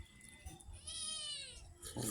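A cat gives a clear, drawn-out meow in the middle of the clip, near and fairly loud, with a shorter cry at the end. Someone is cooking noodles with vegetables nearby, and there are faint household noises.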